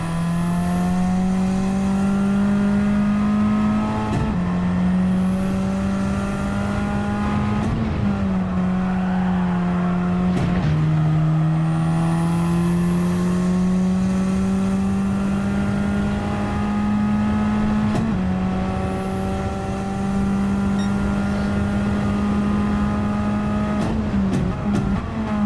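A race car engine howls through the corners in a racing video game, loud and steady near the listener, the pitch climbing on acceleration and dropping sharply at each gear change or braking point, several times over, with no talk.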